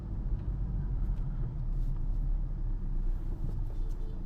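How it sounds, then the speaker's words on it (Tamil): A car's engine pulls steadily in second gear through Chennai traffic, a continuous low rumble that stays close and even from start to finish. "செகண்ட் கியர் போட்டுறேன்"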